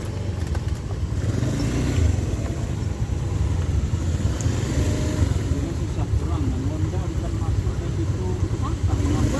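Evening traffic jam of cars queued near a funeral gathering, with a continuous low rumble of idling engines and people talking throughout.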